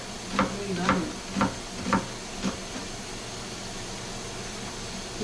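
A big green onion cooks in a pan with a soft steady sizzle, as five rhythmic stirring scrapes sound at the start and then give way to quiet continuous hissing.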